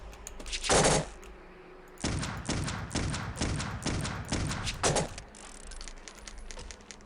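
Several sharp pistol shots in the first-person horror shooter Clive Barker's Undying, fired in a quick irregular burst of about six or seven loud reports with a slight echoing tail.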